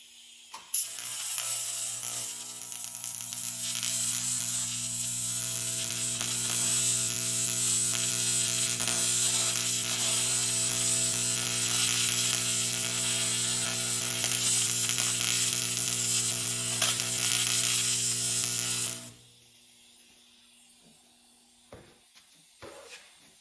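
Tack welding on a brand new transmission pan, a loud steady buzzing crackle of the weld arc lasting nearly twenty seconds, then cutting off to quiet.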